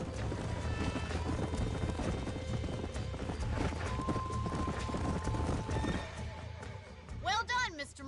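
Horses in the video game Red Dead Redemption clop along steadily at close range under a music bed and game sounds, and a sharp neigh rings out near the end.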